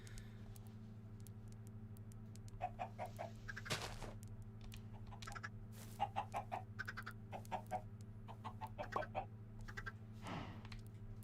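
Baby chickens in the video game Minecraft give short, repeated clucks and chirps in uneven bursts over a steady low electronic hum, with light clicks scattered among them and no talking.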